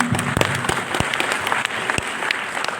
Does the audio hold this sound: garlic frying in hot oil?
no